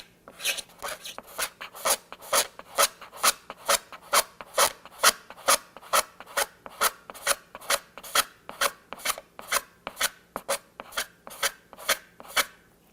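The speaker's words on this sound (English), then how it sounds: "the goal of the scraping with a razor blade is not to flatten it completely. It's just to remove the high spots" A razor blade scrapes a hardened GluBoost finish on a guitar to knock down high spots. The scraping is steady and rhythmic, a dry raspy stroke repeated about twice a second, close and clear with no talking.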